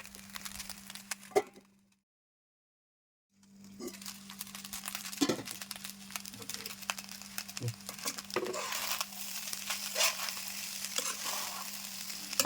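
Leftover rice with tomato cooks in a pan over the flame, a soft steady sizzle and crackle with a low hum, briefly cutting out to silence before resuming.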